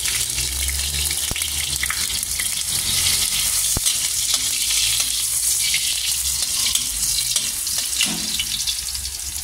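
Garlic fries in a generous amount of cooking oil, making a loud, steady, close-up sizzle and crackle that continues without a break.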